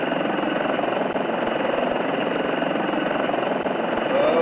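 Steady rotor chop of an Apache helicopter in the video game Apache: Air Assault drones continuously, loud and close, with a constant engine whine layered over the thumping blades.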